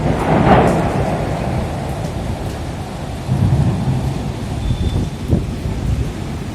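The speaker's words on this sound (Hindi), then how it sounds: "बिजली की शदीद गर्ज और चमक के साथ तेज बारिश हुई।" A thunderstorm with heavy rain in the old city: a steady loud roar of downpour with deep rolling thunder rumbles swelling and fading, no talk.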